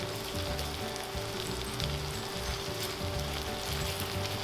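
Onions and garlic fry in a hot pan for a filling, giving a steady, close sizzle with a soft crackle throughout and no talking.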